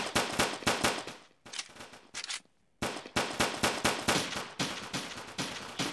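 Dual pistols firing in the blocky shooter game Block Strike, a loud, dense run of rapid shots with a brief pause and a short gap of silence before the fast volley resumes.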